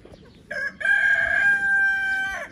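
A village rooster gives one loud, close cock-a-doodle-doo, starting with a short clucky burst and then a long sustained strained note that trails off, over faint background noise.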